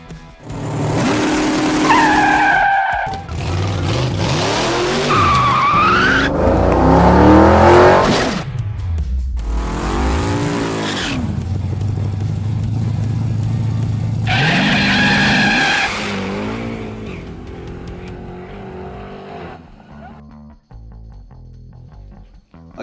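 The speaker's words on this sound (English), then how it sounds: "we had some more cars drive in from the grass this time and not from the beach" Cars driving into a car park, with tires squealing and engines revving up loud and close in several bursts before they fade out near the end.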